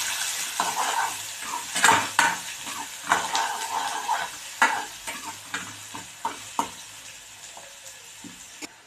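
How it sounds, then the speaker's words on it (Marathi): Onion sautéing in a pan with whole spices (cloves, pepper, cinnamon, bay leaf) for hotel-style dal tadka, a continuous sizzle broken by repeated clinking, scraping stirs of a metal spoon against the pan. "यात आपण आता कांदा मिक्स करूया कांदा चांगला परतून"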